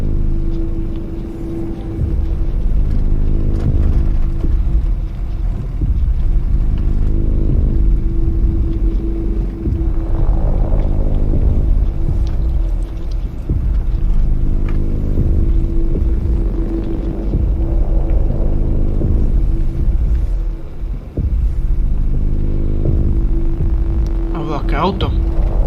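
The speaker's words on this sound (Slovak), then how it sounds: "Auto." A car engine rumbles low and continuous in a forest ranger video game, a steady throbbing drone with a constant hum, while someone talks over it in places.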